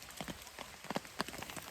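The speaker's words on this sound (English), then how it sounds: "it's been raining all night. Nothing too heavy, just drops" Light rain falls overnight at a hammock camp in an Australian rainforest, with scattered drops tapping irregularly nearby on surfaces, fairly quiet and close.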